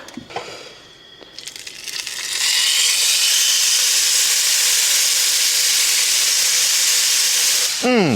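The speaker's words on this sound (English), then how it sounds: "got that oil smoking hot. Let's throw this steak on" A steak hits smoking-hot oil in a pan at a campsite, a few clanks and handling first, then a loud sustained sizzle that roars on steadily, ending with a sharp metallic scrape.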